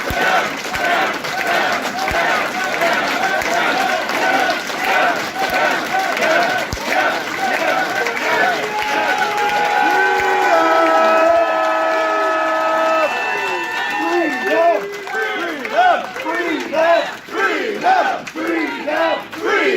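An audience at a religious freedom ceremony rises, cheering, whooping and shouting loudly. Scattered clapping runs beneath the voices, and the vocal cheers swell in the middle before breaking into shorter bursts.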